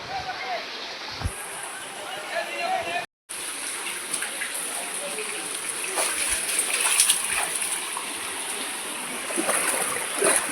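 Rain-fed floodwater flowing through village streets and into homes, a steady gushing and splashing wash that swells slightly toward the end, with a person speaking over it.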